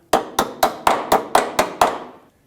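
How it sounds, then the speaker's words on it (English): Eight sharp metallic taps from pliers knocking a brake hose lock into place on a 2003-2008 Honda Pilot, in a steady, even rhythm, struck close by with no talking. "Using a hammer, or in my case a set of pliers, we're going to tap that lock into place"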